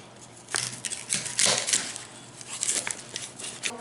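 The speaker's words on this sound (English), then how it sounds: "I'll take the bottom or the ends and I'll cut them off." A knife cuts the woody ends off fresh asparagus, giving a few close, crisp snapping crunches spread over a few seconds.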